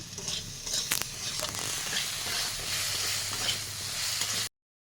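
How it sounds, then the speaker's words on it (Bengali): Potato pieces seasoned with salt, turmeric and whole cumin sizzle steadily in a pan while a utensil scrapes and stirs them, with close metallic clinks over the constant frying hiss. "আলুটা ভাজা হয়ে গেছে"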